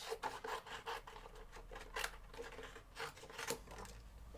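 A die cutting machine presses card shapes for handmade cards, producing faint, close rubbing and crunching with irregular clicks and scrapes and no voices.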